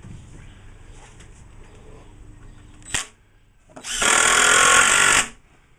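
A power drill drives a screw into a wooden beehive body, giving one loud, close whir of about a second and a half after a brief sharp click and a quieter stretch of background noise.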